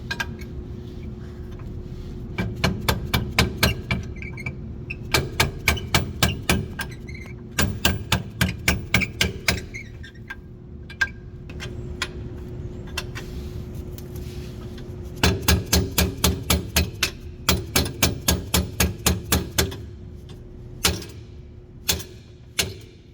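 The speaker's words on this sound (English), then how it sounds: "you grab a punch and a hammer and you drive it through" Rapid bursts of sharp metallic hammer strikes driving a punch through a bolt during Lexus IS rear strut removal, clustered in quick rhythmic groups with short pauses between, close and loud.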